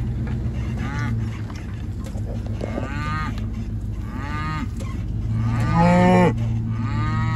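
Cows and calves on a farm moo repeatedly, several overlapping calls of varied pitch at moderate distance, with one louder, nearer moo late on over a steady engine-like hum.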